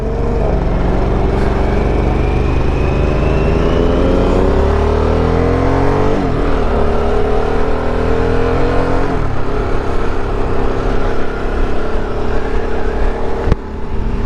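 A 2023 Harley-Davidson Sportster S with its 1250cc engine pulls while being ridden, the loud close engine note rising and falling through gear changes over a continuous rush of wind.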